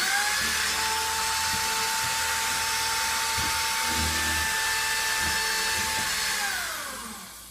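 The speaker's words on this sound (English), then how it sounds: "run the cutter around the hole one more time just to make sure for a clean cut" A powered hole cutter spinning inside a drilled hole, a high steady whine with a constant pitch that holds loud and close, then tapers off as the tool winds down near the end.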